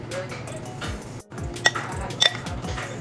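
A cucumber salad seasoned with pink Himalayan salt and cracked black pepper is stirred in a bowl, giving soft scraping and a few sharp clinks of utensil on dish, fairly close and steady with no talk.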